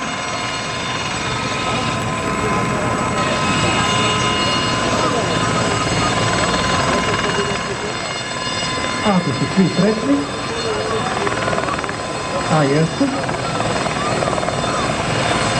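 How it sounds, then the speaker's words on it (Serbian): Gazelle helicopter at the Batajnica airfield open day preparing for takeoff, a steady loud turbine whine and rotor drone filling the whole stretch, with someone speaking over it. "Helikopter Gazela se namjesti za poletanje."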